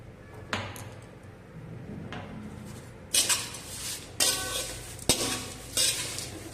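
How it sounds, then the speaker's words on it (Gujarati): Chevdo being stirred in a pan with chaat masala and jaljeera: a spoon scrapes and tosses the dry mix in repeated rustling strokes, growing louder and busier toward the end, with no voices. "હવે આમાં કરીશું મિક્સ ચાટ મસાલા અને જલજીરા."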